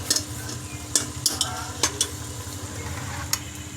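Beef being fried in a pot for Sindhi biryani, with a low steady sizzle under brisk repeated stirring and sharp metallic scrapes of a spoon against the pot, heard close and without any talk.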